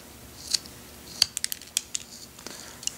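A V-chisel carves a line into a golf ball: a quiet, irregular series of short, crisp scratching nicks and clicks, about ten sharp cuts spaced unevenly over a few seconds, with nothing else heard.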